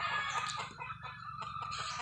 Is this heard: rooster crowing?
yes